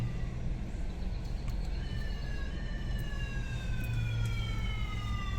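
A police car siren wails during the Giro d'Italia cycle race on Albanian streets, with repeated falling tones sweeping over a low traffic rumble at a moderate distance.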